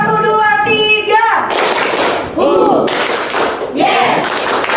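A class of children claps hands together in a rhythmic burst, loud and close, mixed with a teacher's voice and kids' chatter in a classroom.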